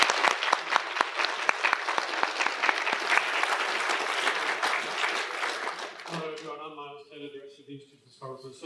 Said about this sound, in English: I think we can all give a round of applause for the moment too